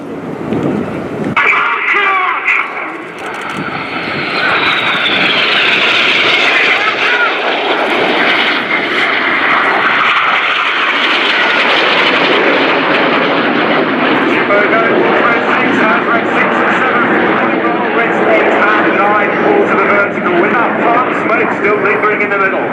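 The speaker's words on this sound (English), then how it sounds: "The jet's about to pull down to 100 feet over the runway with a closing speed of over 700 miles an hour." Red Arrows jets at an air display make a loud, sustained roar with a rising and falling jet-engine rush as they dive low over the runway at high closing speed, continuous throughout with a commentator's voice running underneath.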